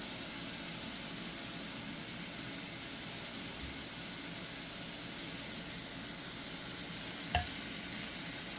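A spoon stirs ground beef and sauce in a pan, producing a steady, faint sizzling hiss with soft scraping and one small clink near the end; no one speaks.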